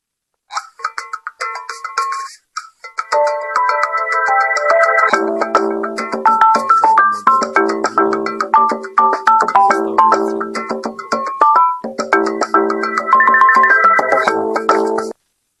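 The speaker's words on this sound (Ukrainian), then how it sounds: "рингтони від телефонів Nokia. Бачимо Nokia Lumia 1020." A bright electronic phone ringtone plays a chiming melody, starting with sparse tones then building into a layered, looping tune that ends abruptly.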